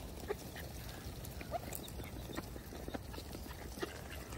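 Wild ducks in a park give a few scattered short quacks against a busy outdoor background with some rustling and patter, fairly faint and spread across the moment.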